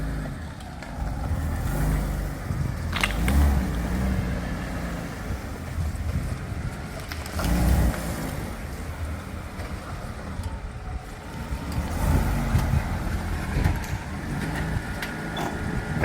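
An old restored car is maneuvered into a parking spot, its engine a steady low drone beneath wind buffeting the microphone, with a few soft thumps along the way.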